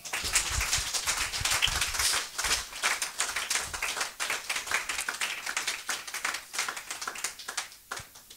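Church congregation clapping in acclaim of the Lord at a Sunday service, dense continuous applause-like handclaps close and loud throughout, with faint voices mixed underneath.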